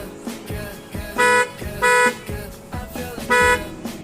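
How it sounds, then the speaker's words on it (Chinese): Original factory horn of a Tesla Model 3 sounding three times in short, loud honks over a background of other recorded sound, each blast about a quarter second long. "特斯拉 Model 3喇叭声音小，鸣笛不给力"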